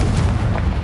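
A Confringo fire spell from Hogwarts Legacy goes off as a short, heavy blast, a deep booming burst with a rumbling tail that fills the brief moment on its own.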